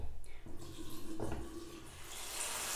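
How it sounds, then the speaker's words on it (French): Tap water runs steadily into a bathroom sink while someone rinses their face, a continuous splashing rush with brief shifts as hands move through the stream, and no voices. "je vais quand même me passer le visage sous l'eau"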